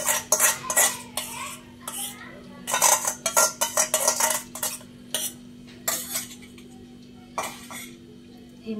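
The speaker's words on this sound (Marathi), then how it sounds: "हे मिश्रण आपण आता मस्त एकजीव करणार आहे." Spoon stirring a whisked yogurt mixture for chicken biryani in a metal bowl, repeated sharp scraping clinks in uneven bursts with short pauses, close and clear, with an occasional throat sound.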